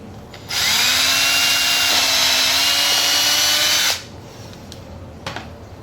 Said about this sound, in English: Okay, so I'm just going to drill right through.